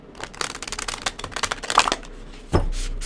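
Cards being shuffled in quick riffling bursts, a rapid flutter of crisp snaps, followed by a soft thump near the end.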